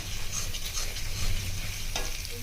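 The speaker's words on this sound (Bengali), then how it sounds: "1 চামচ জিরে গুঁড়ো, কাশ্মীরি লঙ্কার গুঁড়ো, ওটা ভালো করে কষিয়ে নেব।" Ground cumin and Kashmiri chili powder fry in oil for a chicken curry, giving a steady close sizzle with soft stirring scrapes throughout, no voices.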